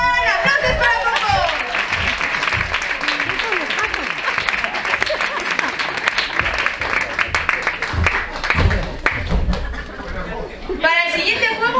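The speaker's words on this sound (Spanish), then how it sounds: "Aplausos para Coco" Audience at a children's festival in Albelda de Iregua applauds after a magic trick, a dense, steady wash of clapping lasting throughout with children's voices and chatter mixed in, and a brief lull near the end.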